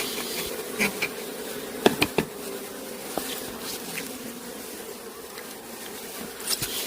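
Honeybees buzz around an opened hive colony during beekeeping, a steady close drone of many insects, broken by a few sharp knocks and taps.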